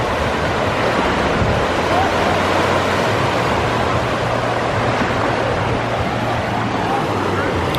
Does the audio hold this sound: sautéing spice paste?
no